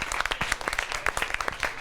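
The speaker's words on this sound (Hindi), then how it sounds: "जोरदार तालियां पी के भाई के लिए।" Audience applause for a poet at a Holi stage program, a patter of distinct, fairly close individual claps forming an uneven rhythm without talk.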